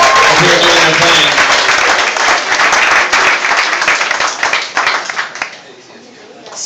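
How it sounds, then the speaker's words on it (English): A comedy club audience breaks into steady, dense applause with some cheering right after the comedian's stand-up introduction, holding strong for several seconds before thinning out and fading toward the end. "Give a round of applause for every comedian you see take the stage tonight"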